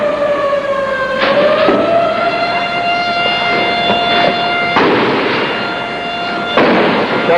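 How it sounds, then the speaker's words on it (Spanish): A loud, steady wailing siren sounds during a shootout, its long tone rising and holding, broken by sharp, noisy bursts that could be gunfire, with no voices. "La sirena de la prensa gráfica hace rato que está sonando"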